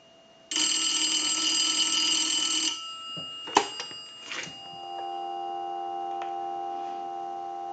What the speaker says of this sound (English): I'll let it go one more time and give you some dial tone.